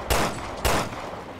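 Two sharp gunshots from Resident Evil: Revelations 2, a loud crack about half a second apart, each trailing into a short echoing decay, with no voices over them.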